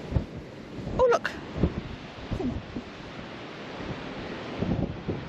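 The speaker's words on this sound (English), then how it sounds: "It's windy." Steady wind roars and buffets against the microphone throughout, with low gusty thumps and a brief faint sound in the middle.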